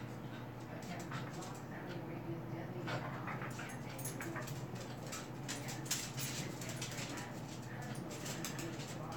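A young teenage dog whimpers and pants close by in a home, with soft high whines and breathy panting running continuously over steady room noise, and a person talks intermittently.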